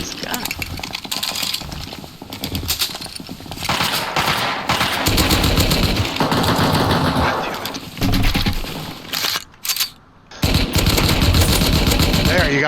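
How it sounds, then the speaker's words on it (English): Automatic gunfire from the survival video game Rust: dense, loud bursts of shots rattling almost continuously, with brief gaps and frantic voices talking over the battle. "I'm running up. I'm getting shot at."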